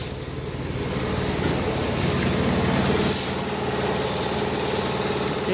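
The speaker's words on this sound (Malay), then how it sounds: "Meter semua mati tapi enjin tak boleh nak stop." A car engine keeps idling after the ignition is switched off and the dashboard meters go dead; a steady, continuous low engine hum runs throughout, with no speech.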